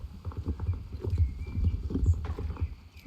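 Horse hooves clip-clop in the video game Star Stable Online, a steady rhythmic trot of close, clear hoofbeats with faint game ambience underneath.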